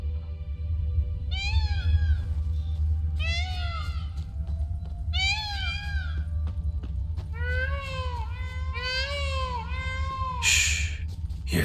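A flock of creatures calls back and forth in The Witcher 3, in repeated bursts of rising-and-falling harmonic cries, several in quick clusters, over a steady low ambient rumble.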